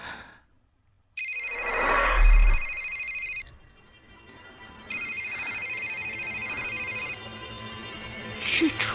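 A telephone rings in two long electronic trills separated by a short pause, loud and steady, with some room noise and a brief voice in between.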